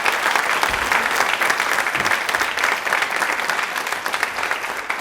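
Audience applause on a Women's Day quiz show on DD Rajasthan, a steady, full wash of many hands clapping that holds at an even level for the whole stretch with no talk.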